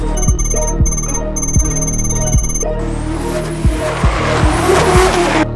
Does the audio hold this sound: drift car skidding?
yes